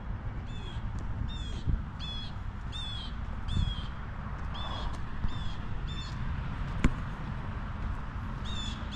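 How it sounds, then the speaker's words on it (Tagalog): A bird calls outdoors in a steady series of short, raspy, caw-like cries, repeated roughly every half second and fairly close, over a low rumbling background. "Yung ibon yan."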